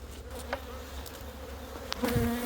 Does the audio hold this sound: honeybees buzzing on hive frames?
yes